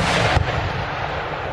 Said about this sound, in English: Keep the artillery pounding them, they seem to be doing a decent job.